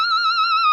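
A sustained electric guitar bend squealing high with finger vibrato, solo style, a steady wavering tone played alone for under a second.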